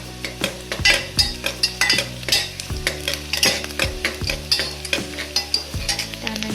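Onion and cumin sizzle and crackle in a frying pan while Maharashtrian khichdi is being made, with steady frying hiss broken by frequent spoon-stirring scrapes and clinks close up.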